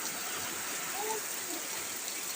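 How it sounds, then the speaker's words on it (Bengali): Heavy rain pours down steadily as a dense, even hiss that fills the whole stretch. It sounds close and constant, and a voice is faintly heard under it. "দেখো কি পরিমাণে বৃষ্টি হচ্ছে।"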